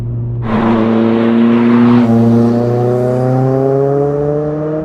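A Ford Focus RS Mk1 with a turbocharged engine accelerates from inside the cabin, loud and steady, its engine note climbing smoothly through a long pull, then settling under load.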